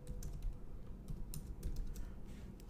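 Typing on a computer keyboard to enter a terminal install command, a quick irregular patter of crisp key clicks with brief pauses, close and fairly quiet, alone without speech.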